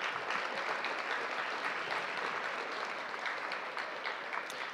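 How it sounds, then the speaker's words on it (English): Sustained applause from an audience at a scholarship awards night, dense clapping holding at an even level throughout with no speech. "Let's give him a round of applause."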